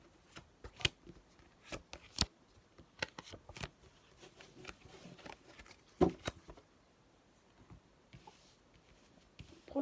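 Oracle cards slid and spread across a table during a reading, giving a close, quiet series of soft slaps and brushing swishes at irregular intervals.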